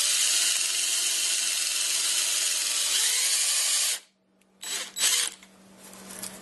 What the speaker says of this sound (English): we're going to drill the first 5 steps of the drill bit.